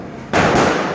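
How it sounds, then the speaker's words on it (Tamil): A single loud, sharp elephant firecracker blast bursts out after a brief quiet moment during Diwali, its crackling boom sustained for the rest of the clip. "என்ன வெடி இது? யானை வெடி."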